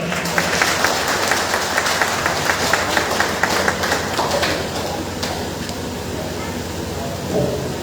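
Crowd applause at a political rally in a colony in Bhadohi, a loud, dense clapping from many people mixed with a low rumbling hum and voices, fading somewhat toward the end.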